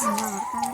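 A dog at a neighbouring house gives drawn-out, howling barks close by, two or three tonal calls in quick succession.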